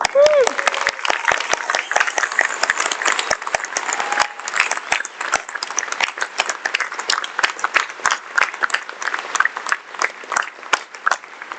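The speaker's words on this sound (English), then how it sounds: "Please honour all of our graduates with your energetic applause." At a university graduation ceremony in Rockhampton, a hall full of guests applauds the new graduates with sharp, close, uneven clapping that continues at length, with some voices faintly beneath it.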